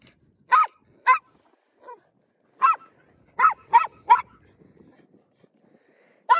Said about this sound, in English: This dog is feisty.